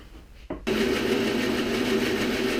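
A bandsaw cuts a radius in solid wood: after a brief click the motor kicks on abruptly and runs as a loud, steady whining hum.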